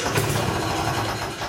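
A cold Messerschmitt engine turns over and tries to start with the choke pulled out, giving a continuous loud, rough churning close by.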